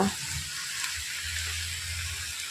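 Cabbage and potato curry sautéing in a pan, a steady soft sizzle and hiss of frying with faint stirring scrapes, close and continuous, no voices.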